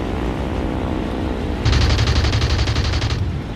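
Wing-mounted cannons on an Fw-190 fighter in War Thunder fire a rapid, loud burst lasting about a second and a half, rattling over steady engine drone.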